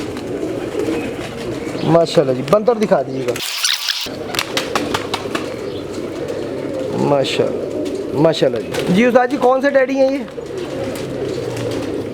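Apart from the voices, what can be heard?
pigeons cooing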